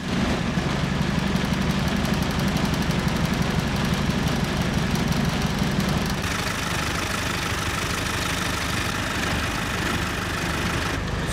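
A Series Land Rover engine idles while warming up, a loud, steady, close rumble that runs throughout without pause, its tone shifting slightly about halfway through.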